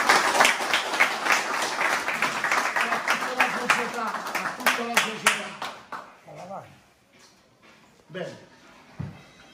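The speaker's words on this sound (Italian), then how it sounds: "lo ringraziamo magari con un applauso, il nostro presidente Edoardo Pesciere." A small group applauds the club president at the inauguration of the first team's locker room, with close, sharp clapping that fades away after about six seconds, leaving a few scattered claps and some speech in an enclosed room.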